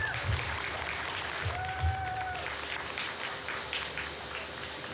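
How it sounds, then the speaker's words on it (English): A theatre cabaret audience claps steadily, a sustained round of applause for the performers heard from within the room, with a faint voice or two underneath. "Let's have another round of applause for all of our performers."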